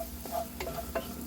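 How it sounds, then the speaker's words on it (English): Onions and garlic sizzling quietly in a pan while being stirred, with a low continuous fry and a few soft scraping stir strokes, close and faint with no talking. "Just moving it around, keeping it stirring"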